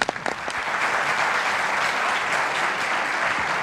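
Audience applause at a tribute performance: a dense, steady wash of clapping from a crowd, opening with a few sharper individual claps and then sustained at full strength throughout.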